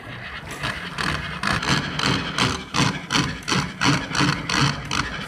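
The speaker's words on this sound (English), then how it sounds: "So we will start the experiment by cranking the Megger." A hand-cranked Megger insulation resistance tester whirs as it is cranked while testing a transformer's LV winding to earth, a loud rhythmic mechanical drone pulsing with each turn of the handle, close and steady.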